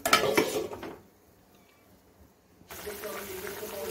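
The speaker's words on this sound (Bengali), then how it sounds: "ভালো করে নেড়ে ঢাকনাটা দিয়ে ঢাকা দিয়ে রাখবো।" Tengra fish curry stirred in a pan with clattering utensil scrapes, then near silence before the lid is set on and a steady simmering hiss follows; a voice is present early on.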